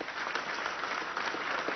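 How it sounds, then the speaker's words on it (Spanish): An audience applauds at a graduation ceremony held with transport workers, a steady patter of many hands clapping, moderately loud and even, with no talk over it. "Vamos a dar un aplauso a la madrina del Estado Lara"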